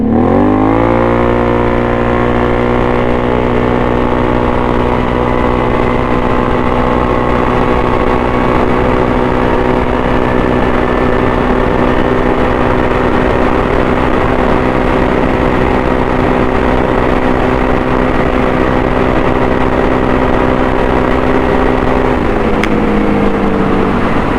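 A Can-Am 1000R side-by-side fitted with a belt upgrade and TNT kit, engine droning loud and close with steady rising harmonic tones as it pulls from a rolling speed, then the pitch drops near the end.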